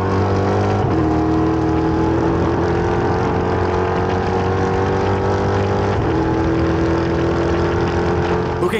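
A racing car engine drones loudly and steadily, its pitch shifting with gear changes, in a video game.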